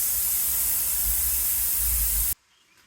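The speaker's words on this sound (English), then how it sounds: "First things first, let's let the air out." Air rushes out of a tire being deflated during a tire swap, a loud steady hiss that fills the clip and then cuts off abruptly near the end, leaving near silence.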